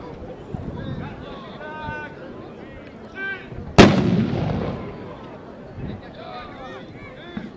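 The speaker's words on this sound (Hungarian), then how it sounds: "Az osztály tüzérség is válaszol" A single loud cannon blast booms out from the artillery at a reenactment of an 1849 battle, sharp and then rumbling away, with a crowd and an announcer's voice talking throughout.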